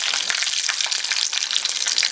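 Loud, continuous crackling sizzle of mustard seeds popping in hot oil, dense and bright throughout with no talking.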